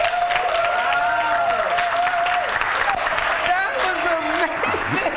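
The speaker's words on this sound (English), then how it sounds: "Y'all give him another round of applause" A crowd at the Sharks at the Beach finals applauds a speaker with steady, dense clapping and scattered whistles and cheers, while voices carry on throughout.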